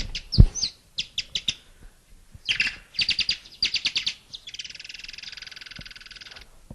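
A songbird sings recorded phrases of quick sharp chirps in bursts, followed by a sustained buzzy trill, clear and close with no talking.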